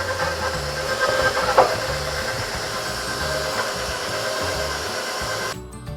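An electric mixer churns oatmeal raisin cookie dough as flour goes in, a steady, close motor hum with a knocking rhythm that runs unbroken and then drops off near the end.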